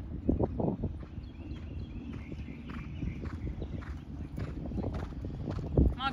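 A 17-year-old off-track Thoroughbred is ridden over a jumpers course, its hooves clip-clopping in a steady rhythm at moderate distance while a rider's voice talks quietly underneath.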